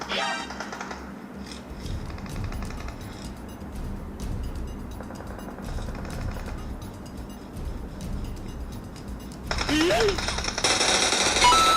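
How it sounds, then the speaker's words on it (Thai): Bursts of automatic gunfire coming from behind in a mobile shooter game played on a realme 12 Pro+ 5G phone, rapid rattling shots under ongoing talk, growing louder and denser toward the end. "มีคนยิงมาจากข้างหลังครับ"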